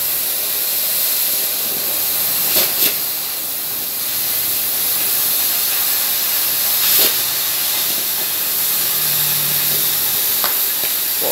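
A WF steel beam being cut: a steady, loud hiss of cutting fills the whole stretch with little change, broken by a few brief sharp pops and crackles and a short low hum near the end.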